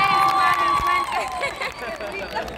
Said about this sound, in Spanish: Más fuerte el aplauso para ella